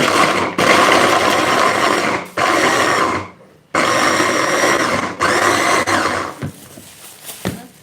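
Electric chopper mincing garlic cloves finely, a loud steady motor whir in several bursts separated by brief pauses, the last ones shorter and tapering off.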